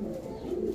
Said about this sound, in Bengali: যেগুলা বাইরে অ্যাডাল্ট কবুতর, সবগুলো এই ফ্লোরে ছেড়ে দিছি